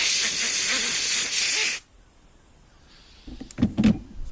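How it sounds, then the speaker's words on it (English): Compressed air blasted onto the metal gauze that sits on top of a Briggs and Stratton lawnmower carburetor, a loud close hissing burst lasting under two seconds, followed by quiet and a few small clinks of handling. "The metal gauze that goes on top of the carburetor wants a bit of a blow"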